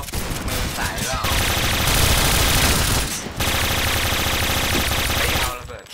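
Video game gunfire, loud sustained bursts of rapid automatic fire with brief pauses between volleys, close and dense, with players talking over it.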